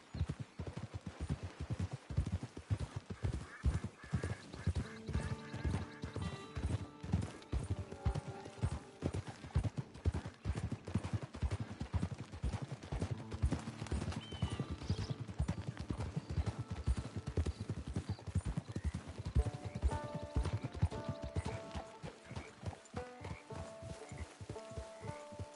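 A horse's hooves clip-clop at a steady walking rhythm throughout, close and clear, in the Red Dead Redemption Online game world, with game music and ambience in the background.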